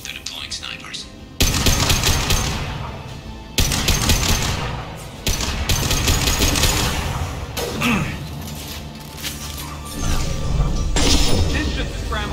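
Loud bursts of gunfire and heavy sniper shots crash through a Mass Effect 2 combat scene, coming in repeated dense volleys with brief lulls between them, while voices call out now and then over the firefight.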